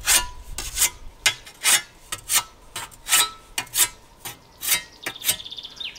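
A scythe blade is sharpened along its back edge to grind off the burr, about a dozen close, rhythmic rasping strokes with short pauses between them.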